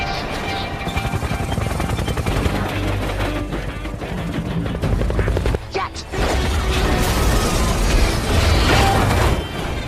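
The brakes burst on runaway freight train 777 in a film scene: a loud, dense mechanical roar with booming, crackling bursts. The noise briefly drops out near the middle, then surges back at full force.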